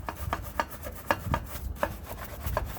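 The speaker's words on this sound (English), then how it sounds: "I'll scrub in these recessed areas. It's a nice hard bristle brush, so it does pretty well." A hard bristle brush scrubbing the recessed areas of a wheel and tire, making quick, close, rhythmic scratchy strokes repeated steadily with no voices.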